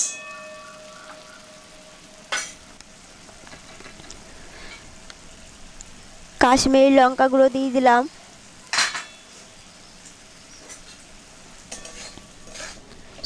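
Mustard paste for a bhola fish curry fries in a pan, a soft steady sizzle broken by scraping stirs from a utensil, with a voice speaking briefly partway through.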